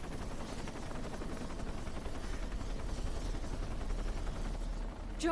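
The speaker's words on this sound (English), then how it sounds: "Start shooting at the chopper!" A helicopter flies amid gunfire in Shadow of the Tomb Raider, a continuous rotor drone with rapid chopping pulses and scattered shots in a war-zone firefight, loud and steady without speech.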